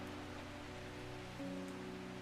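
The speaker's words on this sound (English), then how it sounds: "Does it ever stop raining under me?" Steady rain hiss from the video game Strange Horticulture, a soft continuous wash of falling drops with a low droning tone underneath, even and unbroken throughout.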